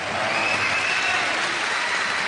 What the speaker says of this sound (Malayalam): എന്താ കയ്യടി